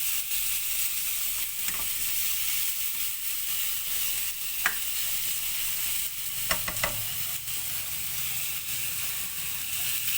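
Onions and garlic paste sizzle in a pan for egg fried rice, a steady close frying hiss with a few soft stirring knocks and scrapes breaking through.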